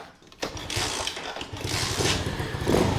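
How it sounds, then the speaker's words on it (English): Electric start on a 125cc Honda CT70 clone motorbike: a starter whir catches into a rough running engine that holds steady and grows slightly louder. Heard close up, with no speech. "Let's see if the electric start works."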